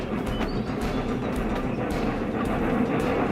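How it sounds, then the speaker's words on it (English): A rack and pinion mountain railway train on Snowdon pushing passenger wagons up a steep slope gives off a steady, broad rumbling clatter with faint intermittent clicks, heard alone at moderate distance. "mountain railways like this one at Snowdon would later use the system to push passenger wagons"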